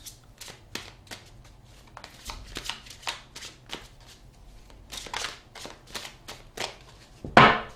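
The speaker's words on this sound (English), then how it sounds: "I'm gonna pull 3 cards." Tarot cards shuffled by hand, a string of crisp riffling flicks and soft slaps at an irregular pace, close and fairly quiet, finishing with a louder brush at the end.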